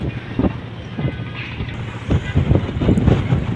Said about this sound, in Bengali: এই নদীতেই এত বাতাস